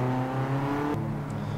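Steady revving engine note of a Honda Civic fitted with an aircraft engine, driven at Tsukuba in a racing video game, loud and continuous with a pitch change partway through.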